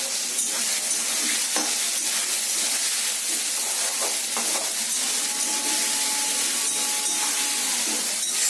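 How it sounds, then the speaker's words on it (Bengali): Onions frying in oil, stirred in a pan after eggs were fried, an even bright sizzle with soft spatula scraping throughout, nearby and steady, nobody talking. "এবার আমি এই পেঁয়াজগুলো ভালো করে ভেজে তুলব"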